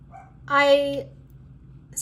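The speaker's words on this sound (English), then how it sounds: "my dog's barking" A pet dog barks once in a loud, close bark with a whiny tonal edge, followed by quiet room tone and a faint short yip at the end.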